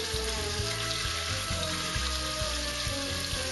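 Beef browning in a pan of rendered fat and olive oil for boeuf bourguignon, a steady close sizzle and spatter with faint clinks, no talk.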